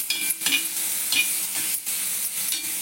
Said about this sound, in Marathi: नुसतं गरम तव्यात, लोखंडी तव्यात असं परतून घ्यायचं